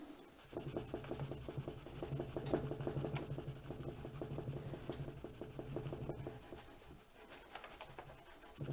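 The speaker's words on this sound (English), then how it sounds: "we're now going to clean the fretboard and get rid of some of the dirt that's on there" Fine 4/0 steel wool rubbed back and forth along a guitar fretboard on an unfinished neck, a quiet, close, steady rhythmic scrubbing with regular strokes and no voices.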